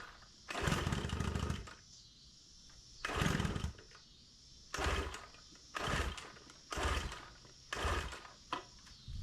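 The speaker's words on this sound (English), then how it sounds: "Motor sounds good." An outboard boat motor under repair sputters to life in a string of short, rough bursts about a second apart, separated by brief quieter gaps, at moderate distance.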